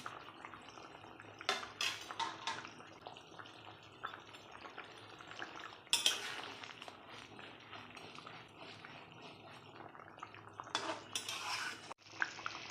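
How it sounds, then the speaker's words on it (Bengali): Pieces of fried rohu fish go into a simmering spicy cauliflower curry in a pan, with faint scattered clinks of utensil on metal, light bubbling and occasional louder knocks, all quiet and close. "এইবার আমি মাছ ভাজাগুলো দিয়ে দেবো"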